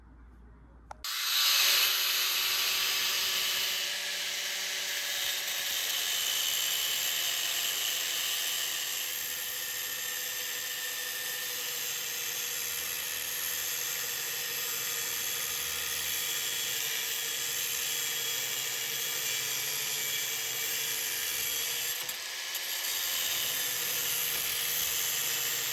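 Continuous high-pitched metal grinding during a Humvee wrecker build, a sustained loud whine with a steady hissing edge that runs for the whole stretch after a short quiet start, no voices.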